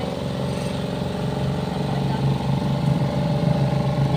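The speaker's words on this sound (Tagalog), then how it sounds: "Yan, malakas po yung ating dryer." A washing machine's dryer spin drum being tested during a repair for slow spinning and sudden stopping whirs steadily and loudly at close range, a constant motor hum with a rhythmic rumble throughout.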